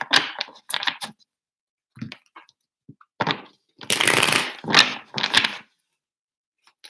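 Tarot cards being shuffled by hand in several close, crisp riffling bursts separated by short pauses, with no talking.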